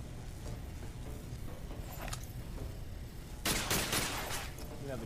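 Gunfire from a rifle in the video game Alien Breed: Impact, shooting at a spawn creature: a dense burst of rapid shots around the middle and a louder sustained volley near the end, set over a constant game background hum.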